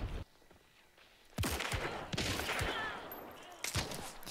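Video game gunfire erupts in rapid bursts of sharp, loud shots after a quieter opening, with overlapping reports and brief pauses between volleys.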